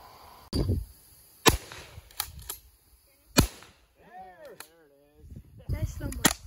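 Guns fired at a target during an outdoor shooting session, several sharp, loud single shots spaced a second or so apart, with people talking between them.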